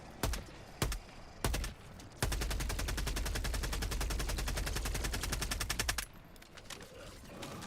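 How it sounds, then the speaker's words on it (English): Gunfire from the video game Helldivers 2: three separate loud shots, then a sustained rapid automatic burst lasting about four seconds, close and sharp, ending abruptly into quieter background noise. "I just wanted to shoot him in the head to see"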